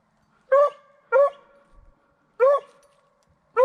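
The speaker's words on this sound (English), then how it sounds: "I hear dogs pass running to my right now." Hunting dogs on a deer track in Alabama bark in short single barks spaced about a second apart, fairly close, with quiet outdoor background between them and no talking.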